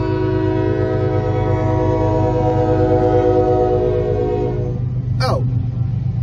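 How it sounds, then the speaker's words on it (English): A train rumbles steadily along the tracks on a foggy morning, a loud continuous roar with droning engine tones that carries through the whole stretch, ending in a short horn-like toot near the close. "I hear the train coming."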